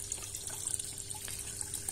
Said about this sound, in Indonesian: Keran otomatis ini apabila air berkurang dia akan tambah ya.